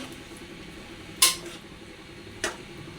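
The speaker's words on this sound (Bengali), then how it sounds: "একটু নাড়াচাড়া করে দিই" A spoon knocking against a pot while chicken biryani is stirred: two short metallic clinks about a second apart over a low background hum, fairly quiet and alone.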